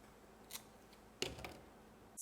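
Scissors snip a variegated houseplant stem indoors: a few quiet, sharp cuts spaced apart, with one louder snip near the middle and another at the end, no voices.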